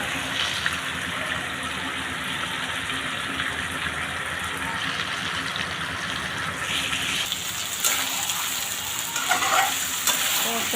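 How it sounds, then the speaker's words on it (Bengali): Meat sautéing in a hot pan, with a dense, continuous sizzle and stirring noise close by that grows brighter and busier toward the end, no voices. "তারপর ভালো করে কাটিয়ে নেব ভালো করে দেবো ভালোভাবে কষিয়ে নেব"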